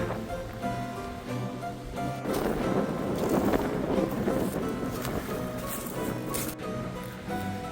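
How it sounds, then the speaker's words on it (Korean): Strong wind blowing across an exposed mountain ridge on a coastal hiking trail, a steady loud roar buffeting the microphone and swelling in gusts throughout. "능선에 올라오니까 바람이 엄청 불해요"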